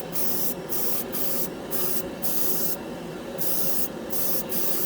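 Black paint sprayed onto a spoon as a final coat, a hissing aerosol spray coming in repeated bursts of about half a second to a second, with short pauses between, close and steady.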